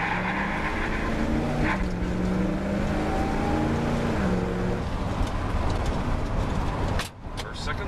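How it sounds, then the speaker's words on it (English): A Ranchero car's engine revs up as it is put in drive and pulls away, a loud close drone that rises in pitch steadily before a brief drop near the end, with speech faintly present. "I'm just going to put it in drive and go."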